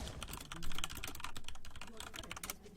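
Rapid clattering of computer keyboard keys during a League of Legends match, a quiet, continuous stream of uneven clicks with no pauses.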